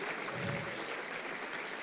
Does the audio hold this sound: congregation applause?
yes